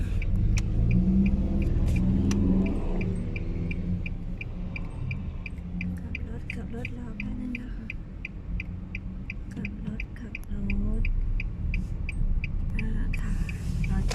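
A car engine hums and rumbles steadily while the car turns around on a road near a market, with a rising rev near the end and a faint regular ticking throughout.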